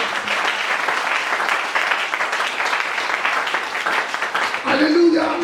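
A church congregation at an anniversary ceremony in Pointe-Noire claps loudly and steadily as a dense crowd, the broadband applause continuing throughout with voices rising near the end.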